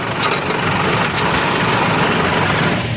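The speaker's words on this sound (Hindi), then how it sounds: "बिजली से पानी में मौजूद हाइड्रोजन और ऑक्सीजन को अलग करके हाइड्रोजन गैस से कार के इंजन को चलाया जाता है" A hydrogen-fuelled car engine running on gas split from water by electrolysis, a steady, loud, continuous rumbling drone with no breaks.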